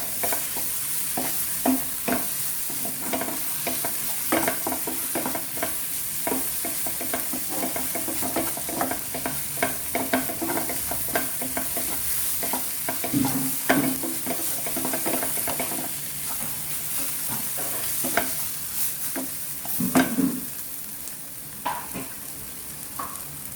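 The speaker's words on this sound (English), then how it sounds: "Let us saute until the raw taste of the masalas go away" Chicken keema masala sautéing in a pan, a steady close sizzle and fry broken by frequent scraping stirs of a spoon against the pan, continuing without talk.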